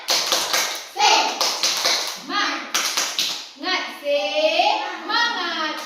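Children in a classroom clap a rhythmic cheer together, with bursts of crisp, patterned claps alternating with their chanting voices throughout.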